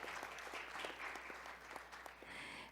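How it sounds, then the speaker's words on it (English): Faint audience applause at a conference session on AI, a brief steady patter of many hands clapping at a distance. "Please welcome her with a big round of applause"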